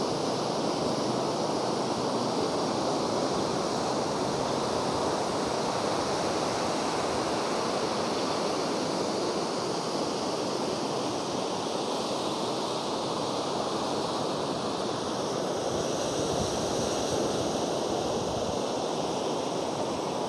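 Ocean waves breaking on the beach at Jolosutro, Blitar, a steady, loud wash of surf that roars continuously with no gaps and no voices.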